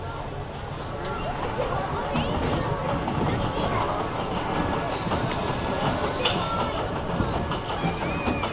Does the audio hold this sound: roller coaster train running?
yes